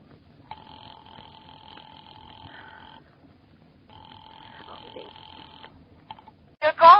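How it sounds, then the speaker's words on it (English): Old-time radio telephone line ringing in a suspense drama, two long steady electronic ring tones separated by a pause, moderately loud over faint background, followed by a brief burst of voice at the end. "Ringing the police department."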